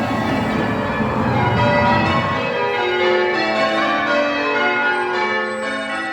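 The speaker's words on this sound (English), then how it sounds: "And the bells in town are ringing." Church bells ring out in a resonant, overlapping peal, loud at first and then lingering with long ringing tones that slowly fade.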